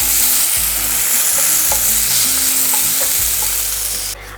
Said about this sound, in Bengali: এরপর দিয়ে দেব হাফ চা চামচের মতন আদা বাটা। একটু নাড়াচাড়া করে নিচ্ছি।